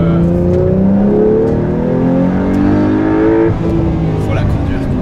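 Race car with a light build, kart-like, accelerating hard, its engine note climbing through rising gear pulls, loud and close with a steady roar, a pause around a shift, then more revving.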